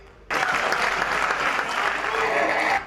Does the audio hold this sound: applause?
yes